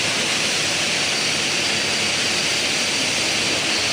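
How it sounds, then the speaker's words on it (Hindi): Water and engine oil pour steadily from the drain of a car engine that was flooded, with water found in the air filter; a loud, continuous broadband rush fills the whole stretch without a break. "अब हम इसका इंजन ऑयल ड्रेन कर रहे हैं।"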